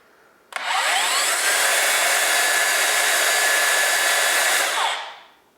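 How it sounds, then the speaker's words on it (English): DeWALT saw switched on with no blade fitted, its motor spinning up with a sharp start into a steady smooth whine for several seconds, then winding down, loud and close with no talk. "So I'm just gonna turn the saw on."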